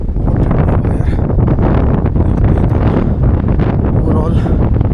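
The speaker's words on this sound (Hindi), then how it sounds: "बहुत तेज हवा चल रही है, बर्फ भीग रही है ऊपर, बहुत ठंडी हवा यार।" Strong, cold wind gusts hard across the microphone in a snowy place at -15°C, a loud, continuous buffeting roar with no break.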